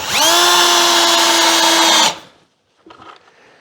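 A power drill, standing in for a screw gun, drives a screw through plywood into a wooden top cleat. It gives a loud, steady whine for about two seconds, then stops, followed by a brief softer rattle.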